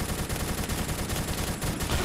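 Gunfire in Roblox Phantom Forces, a dense burst of rapid automatic shots with heavy kick, loud and continuous throughout, with no talking.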